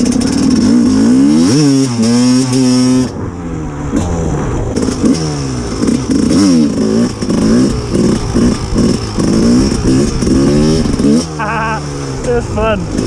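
A 2001 Evo 250 two-stroke enduro motorcycle engine revs continuously beneath loud, excited talk that dominates throughout.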